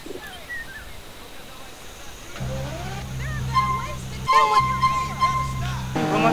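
A car driving in GTA San Andreas, its steady engine drone starting partway through and running under chirping birds and game sounds, with a brief break before it resumes.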